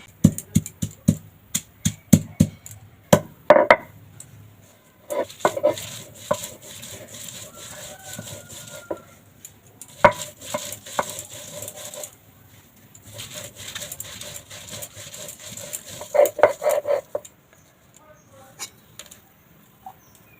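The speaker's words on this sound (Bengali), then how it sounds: "এবার এই সয়াবিনগুলো আমি বেটে নেবো" Soaked soybeans are ground into a paste by hand, giving sharp knocks and rough scraping strokes in uneven bursts with short pauses between them, moderately close.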